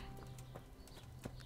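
Horse hooves clip-clop in the video game Kingdom Come: Deliverance, a quick run of soft, fairly faint hoofbeats at an even walking rhythm over low ambient hum.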